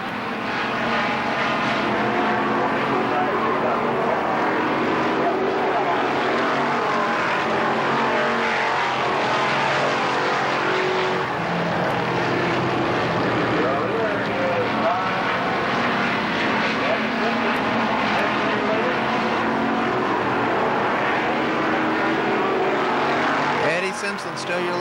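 A pack of oval race cars roars continuously at Kil Kare Speedway, the loud engine drone steady throughout while a commentator talks over it.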